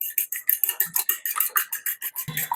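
Egg whisked with salt and a pinch of MSG in a bowl, a steady run of quick rhythmic clinks of utensil against the bowl, close and clear, with a small knock at the end.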